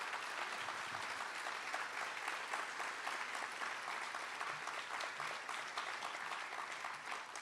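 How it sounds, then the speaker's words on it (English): Audience at a university convocation ceremony applauding in a large hall, a dense steady clapping that carries on at even strength from start to finish. "Let's give them a big round of applause."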